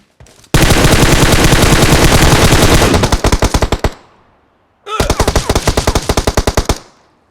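Rapid automatic gunfire in the mobile battle royale game PUBG Mobile, two loud close bursts of evenly spaced shots, the first long and fading into separate cracks, then a short pause before a second burst.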